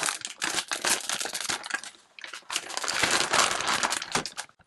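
A plastic vacuum storage bag crinkles and crumples continuously as it is handled, with loud rustling bursts close up.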